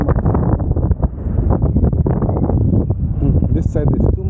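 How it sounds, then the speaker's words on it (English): Strong wind buffets the microphone with loud, rumbling gusts, a constant heavy roar with shifting surges throughout. "You can see the wind is too much."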